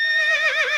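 A single horse gives a short, loud whinny of under a second, a bright quavering call that wavers in pitch near its end, close and alone.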